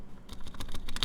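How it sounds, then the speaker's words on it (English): Clacking keystrokes on a mechanical keyboard with silent switches, with a rattling spacebar among them: a quick, close run of taps that speeds up and gets louder toward the end, with no talking. "The rattling sound is probably from the spacebar."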